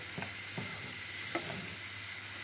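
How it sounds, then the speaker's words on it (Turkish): Tomatoes and flour sautéing in a pan for tomato soup, a steady soft sizzle with a few faint scrapes of stirring, close and without speech. "Güzelce domates ve unumuzu kavuruyoruz"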